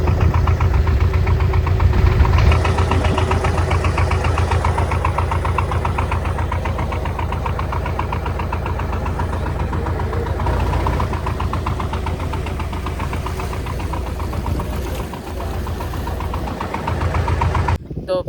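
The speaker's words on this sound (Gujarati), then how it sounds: "એક બોટ અહીંયા હાલી જાય છે" A boat engine drones loudly and steadily throughout, a continuous mid-pitched rumble with a knocking throb and no pauses.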